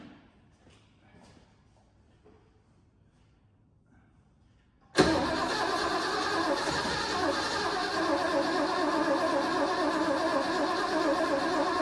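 After fuel is added, an engine cranks and catches suddenly following a few seconds of near-silence with faint voices, then settles into a loud steady running idle up close.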